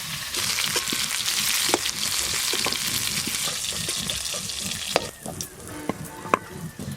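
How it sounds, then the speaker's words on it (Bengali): Carrots and mixed vegetables fry together in hot oil in a karai, making a loud, steady sizzle with the clack of a spatula stirring, easing slightly near the end. "বাকি যে এবার সবজিগুলো আছে সব একসঙ্গে ভালো করে ভেজে নেব।"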